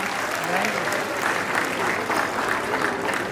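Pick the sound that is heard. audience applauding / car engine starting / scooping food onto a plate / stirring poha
audience applauding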